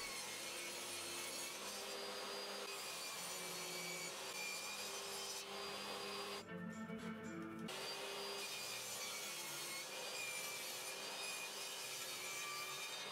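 A table saw cuts plywood for an armchair, a loud continuous whining roar that dips briefly as the blade passes through the sheet, then carries on steadily close by.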